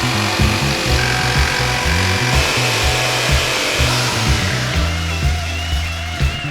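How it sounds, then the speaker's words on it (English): A jigsaw cuts through 1/2-inch plywood in a steady, loud rasping buzz, its blade chattering rhythmically throughout with no voices. "I traced out each template on 1/2-inch plywood and I cut it out using my jigsaw"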